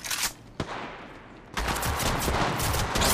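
Rapid gunfire in the Apex Legends game comes as a few sharp shots followed by a loud, sustained burst of automatic fire, close and with no talking.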